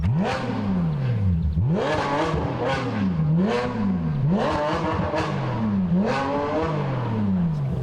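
A Porsche RS rally car racing on a Targa New Zealand tarmac stage, its engine revving hard and rising and falling in pitch through repeated gear changes and accelerations, loud and continuous with no talking.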